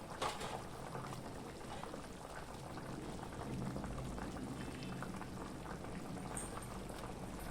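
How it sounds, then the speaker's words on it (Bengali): Steady bubbling and gentle spitting of curry broth simmering in a pot on the stove, a continuous close, low hiss with small pops throughout. "দেখো ঝোলটা ফুটছে"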